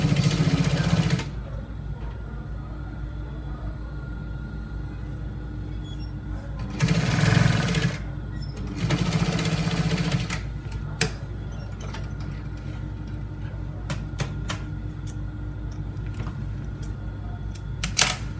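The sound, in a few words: sewing machine stitching a trouser pocket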